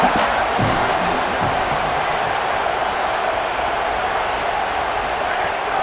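A dense stadium crowd roars and cheers steadily throughout a late-game defensive stand in an EA Sports College Football 27 video game, loud and continuous with a broadcast commentator's voice faintly mixed in.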